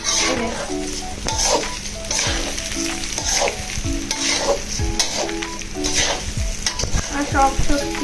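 Rice with turmeric stirred and fried in a pan, cooked like pulao: steady sizzling with repeated scraping spoon strokes, close by, over background music.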